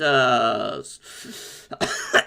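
A voice holds a sustained tone, then a few rough coughs and throat-clearing sounds follow, close and fairly loud.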